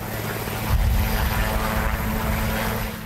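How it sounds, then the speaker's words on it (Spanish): Helicopter arriving at the White House, a steady loud rotor and engine roar with low thumping and a constant drone throughout, no voices. "Joe Biden llegó en helicóptero hasta la Casa Blanca en la previa del histórico impeachment en Estados Unidos"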